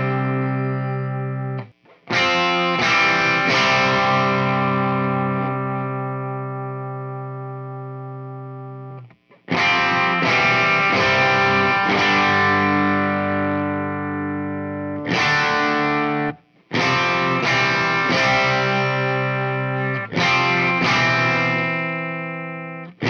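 An electric guitar runs through a Synergy Z Wreck preamp with its cut knob being adjusted, giving loud, distorted, sustained chords that ring out and decay, with brief silent gaps between strummed phrases.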